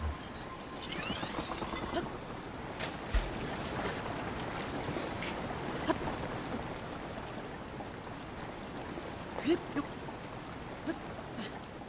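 Steady rain in The Legend of Zelda: Breath of the Wild, a broad continuous hiss with a few faint taps and knocks scattered through it.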